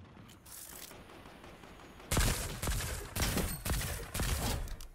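Gunfire in the battle royale game Fortnite: after a quiet stretch, four or five loud, sharp bursts of rapid shots crack out in quick succession, each separated by brief gaps.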